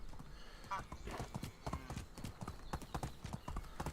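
Horse hooves clip-clop in a steady rhythm while riding in the medieval survival game Medieval Dynasty, close and fairly quiet, with a player's voice talking over the steps.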